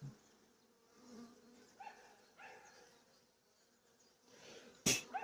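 Faint, steady insect buzzing of many honey bees in a hive at an apiary in February, low and continuous, with a brief sharp knock near the end.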